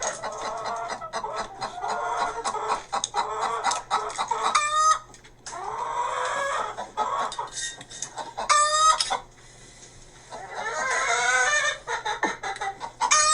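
Chickens cluck and squawk in bursts throughout, with rising crowing-like calls and a steady low hum beneath, fairly close and loud.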